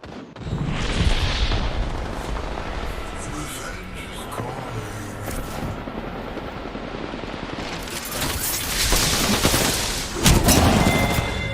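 Rapid bursts of gunfire from a video game battle, dense and loud throughout with a heavier flurry near the end, mixed under ongoing talk.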